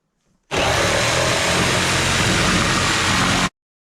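A router cuts wood for the wheels of a DIY e-bike railroad cart, a loud, steady, close whine and rasp that starts suddenly and runs about three seconds before stopping sharply.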